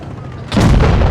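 A sudden heavy boom of a tank cannon shot in World of Tanks Blitz bursts in after a quiet rumbling stretch, loud and sustained with a rolling low-end blast.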